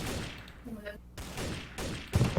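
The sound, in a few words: gunfire from a weapon in Trouble in Terrorist Town video game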